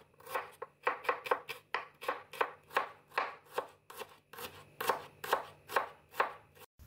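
A knife thinly slicing shallots (bawang merah) on a cutting board makes quick, crisp, rhythmic taps, about two or three per second, with a brief pause in the middle, close and clear with no talk.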